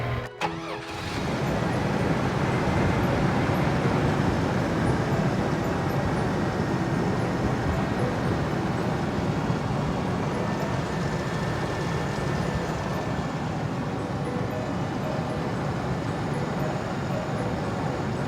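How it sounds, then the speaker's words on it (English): A 1999 GMC Safari van engine, freshly fitted with a new alternator, cranks and catches, then settles into a steady, fairly loud idle that drones on unchanged, with no talking. "then we're gonna start the engine"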